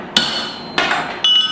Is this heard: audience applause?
no